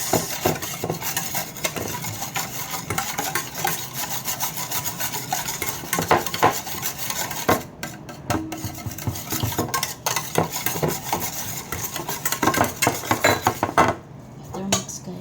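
Boneless chicken leg pieces are mixed by hand with salt and marinade in a bowl, making steady wet squelching and rubbing with occasional scrapes against the bowl's side, close and fairly loud.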